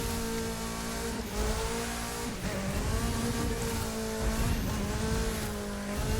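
A car in The Crew 2 video game drives with a continuous high-revving engine whine, with pitch shifting as it changes gear and squealing tyres over steady road noise, loud and close with no talking.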